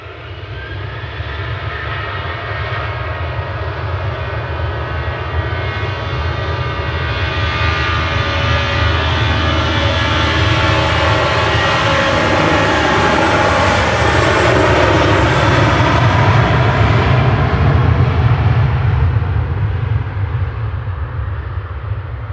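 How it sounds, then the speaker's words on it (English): Jet2 Boeing 737-800 jet departing Manchester Airport, a loud continuous engine roar that swells and holds steady throughout, with no talk. "Jet2 departing next to Faro. This is JZHE"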